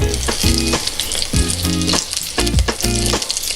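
Curry leaves crackle and sizzle in hot coconut oil, loud and close, with a dense continuous spatter and a spoon stirring through it in rhythmic bursts.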